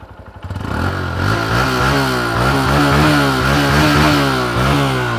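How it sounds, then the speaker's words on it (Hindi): A Honda CB 125 Hornet motorcycle engine cranks and catches, then settles into a loud, steady, throbbing idle with light revving, close by and with no voices. "सिंगल अटेम्प्ट में स्टार्ट हो गई होंडा की हॉर्नेट"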